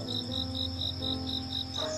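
A cricket chirps in a steady, evenly spaced pulse of high, bright trills, about nine in quick succession, close and clear above a low hum.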